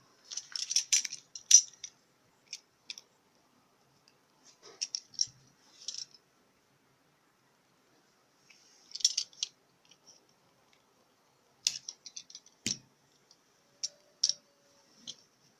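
Scissors snip through 3 mm insole material, trimming sharp edges for a crochet shoe: close, crisp clicking cuts in short bursts with pauses between, no talking.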